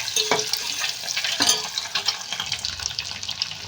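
Eggs frying in oil in a pan for a tomato egg recipe, an uneven crackling sizzle with a couple of sharp clinks and scrapes, close and moderately loud, no talk.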